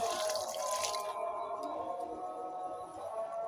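Liquid fertilizer splashing over a lemongrass plant on a home terrace, a close, bright pour of water that thins after the first second into soft dripping and trickling, alone without voices.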